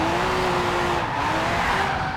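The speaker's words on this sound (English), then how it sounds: "one thing I have to give props to Forza Horizon 4 is how good this M5 sounds." A BMW M5 drifting in the racing game Forza Horizon 4, its engine holding a steady high drone beneath loud, continuous tire squeal that wavers slightly as the slide goes on, with no talking.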